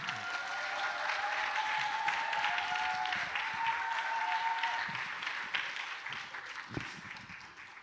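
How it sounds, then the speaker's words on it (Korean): A church congregation applauding, a steady, dense clapping that holds throughout and eases slightly near the end. "뜨거운 박수로 김성선 감독님을 모시도록 하겠습니다"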